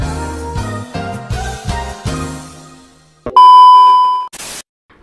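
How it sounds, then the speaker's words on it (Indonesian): Mobile phone ringtone: a run of bright electronic melodic notes, then a loud sustained tone that cuts off abruptly, followed by a short burst of noise. "ada HP gua bunyi."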